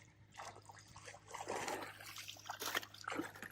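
Faint splashes and dribbling water sounds come in a few irregular bursts, quiet and somewhat distant, with light background noise and no clear speech.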